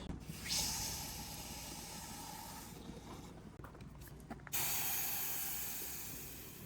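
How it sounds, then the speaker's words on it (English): Water rushes through a hose with a steady hiss and spray, briefly sputtering and dropping before surging back louder. "now I'm going to turn the water on"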